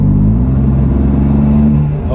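A BMW F80 M3 with upgraded Pure Stage 2 turbos accelerates in comfort mode, a loud, steady engine drone heard from inside the car.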